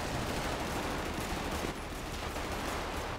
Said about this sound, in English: A little bit of gunfire, a little bang, a little boom boom